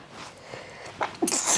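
A person sneezes near the end, a sharp burst after a brief inhale, set in an indoor interview conversation with low background.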